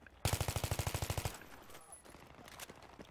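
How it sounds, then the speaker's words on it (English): A short burst of automatic gunfire in a military shooter video game, about fifteen rapid shots in just over a second, fairly loud, followed by faint distant game ambience and scattered sounds. "Still shooting further up the road."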